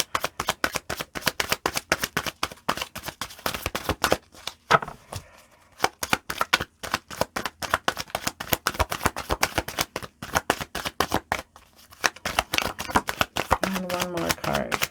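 Angel oracle cards being shuffled, a dense run of crisp riffling slaps and flutters that stops briefly around the middle and near the end, close to the mic with no talk.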